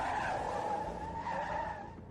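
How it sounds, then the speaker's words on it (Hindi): A police van skids to a sudden stop, a loud, sustained tire squeal that holds steady for about two seconds before tapering off, heard alone as a story sound effect. "अचानक गाड़ी रुकी"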